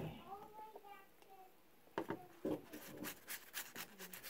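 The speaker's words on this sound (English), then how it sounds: "after 5 minutes I will like scrub it really good" Baking soda scrubbed into a yellow-stained shirt armpit with short, uneven rubbing strokes in brief bursts, close by, after a quiet stretch with faint background voices.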